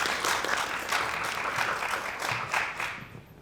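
Audience applause fills a room in a steady wash of clapping hands, loud and sustained with slight swells, following a classroom-style skit about professors and AI.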